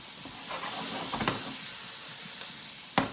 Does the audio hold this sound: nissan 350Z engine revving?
no